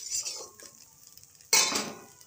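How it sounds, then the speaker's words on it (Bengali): Spice paste with turmeric and salt is stirred in a pan, giving soft sizzling and a couple of bright metallic scrapes of a utensil against the pan, the second one louder near the end, close by with no talking. "একটু হলুদ, সামান্য একটু লবণ দিয়ে মশলাটা কষিয়ে নিচ্ছি"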